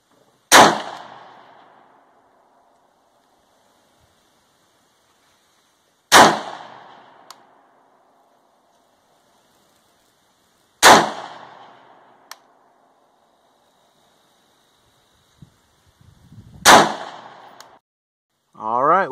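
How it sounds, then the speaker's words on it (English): Four loud rifle shots ring out at a shooting range, aimed at a bat-shaped target, each a sharp crack trailing into a decaying echo, spaced several seconds apart with quiet gaps between. "We took some shots at the bat."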